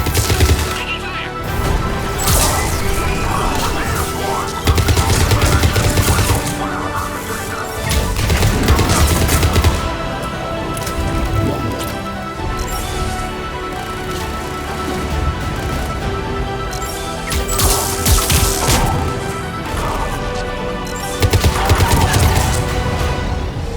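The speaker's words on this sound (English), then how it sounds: "They're under fire. Let's get in there. Taking fire." Gunfire crackles through a Mass Effect 3 battle at a checkpoint, with repeated loud bursts and rapid volleys of automatic fire, sharp impacts and crashes, and game dialogue voices scattered among the shots.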